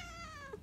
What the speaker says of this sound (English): Oh, my cat just walked in.